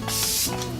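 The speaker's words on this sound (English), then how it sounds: "finally with a setting spray that will actually lock everything in" A short, close hiss of Kat Von D makeup setting spray misted in a single burst lasting under a second.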